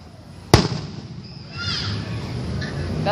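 July 4th fireworks at night: a single sharp, loud explosion, followed by a lingering rumble and crackle, while excited voices chatter and exclaim nearby.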